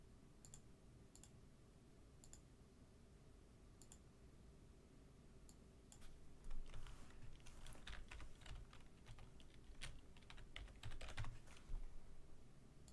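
Keys clatter on a computer keyboard, sparse isolated taps at first, then faster bursts of typing and clicks; quiet and close, with no one talking.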